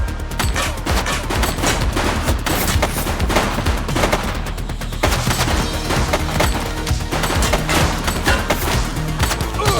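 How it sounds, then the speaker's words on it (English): A suspect fires a loud, sustained volley of gunfire in the video game The Precinct, a dense burst of rapid shots with crashing impacts and no talk. "He's shooting!"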